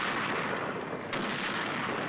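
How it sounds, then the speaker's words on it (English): An artillery battery firing, heard as a dense, loud, continuous roar of distant gunfire with a brief dip and renewed surge partway through, with no voices. "Battalion is firing."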